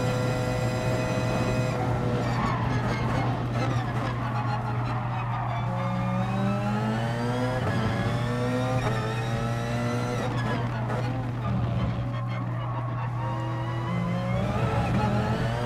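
A Porsche 919 race car in the video game Gran Turismo Sport at Circuit de la Sarthe, Le Mans, holds a high, loud engine whine that rises and falls through gear changes over a steady low drone, with no talking.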